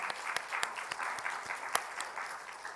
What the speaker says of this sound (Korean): 우리 하나님과 포내성 교회의 감사로 박수로 감사드리겠습니다